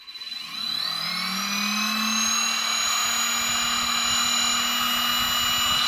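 A CNC spindle motor driven by an NFLIXIN VFD controller spins up from silence, a rising whine that climbs in pitch over the first second and then settles into a loud, steady high-pitched hum.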